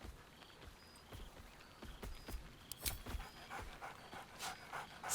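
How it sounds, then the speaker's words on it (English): A dog in the video game Baldur's Gate 3 pants in quick, breathy bursts at close range, with soft scattered thumps and a couple of sharper yips, fairly quiet overall. "Scratch barks merrily in something like agreement."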